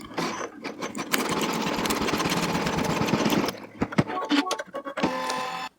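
A home embroidery machine stitches a large nutcracker applique with a steady, loud mechanical whir and rapid needle chatter, then stops and restarts with shorter clunky bursts up close.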